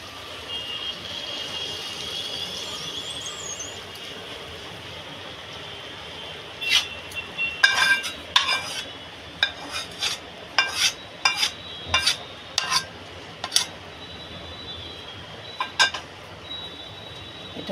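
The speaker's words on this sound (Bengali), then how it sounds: "আমি এবার ভাতের ভিতরে ঢেলে দিয়ে মিক্স করে নেব" Spiced mixture is poured over cooked rice and worked in with a spoon, giving a series of close, sharp metallic clinks and scrapes over a steady background hiss, without talk.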